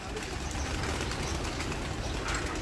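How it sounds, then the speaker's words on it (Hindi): A Salara pigeon coos, its low soft calls sitting close under a dense, steady wash of background noise with no clear breaks. "ये सलारा कबूतर देखें जी"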